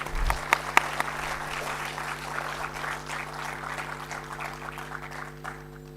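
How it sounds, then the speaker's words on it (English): An audience applauds on stage cue at a formal event, with the clapping starting in a sharp burst and then continuing as an even, moderately loud patter before tapering off near the end. "Big round of applause, please."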